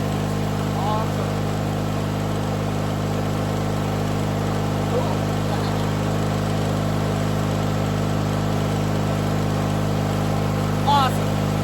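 A 1997 MTD Yard Machines riding lawnmower engine runs steadily after a cold start in freezing winter weather, a constant droning idle heard up close, with someone speaking briefly over it.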